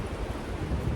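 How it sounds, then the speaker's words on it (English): Wind gusting across a microphone outdoors on a homestead, a steady low rumbling buffet with soft rustle, loud and close, no voices. "I don't know if you can hear me with that wind or not"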